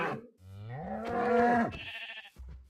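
A Minecraft cow lets out a single drawn-out moo that rises and holds, fairly close and clear, followed by a brief low thud.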